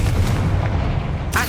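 A Confringo spell explosion from the video game Hogwarts Legacy booms loudly, a dense, low blast sustained through the moment and ending in a brief sharper burst.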